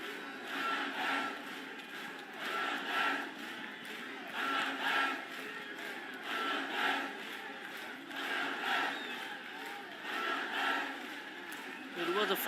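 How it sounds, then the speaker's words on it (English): Bangladesh fans in a stadium crowd at an under-20 SAFF Championship football match against India cheer and chant in steady rising and falling waves, distant and continuous, under commentary. "Now the Bangladesh fans still cheering on."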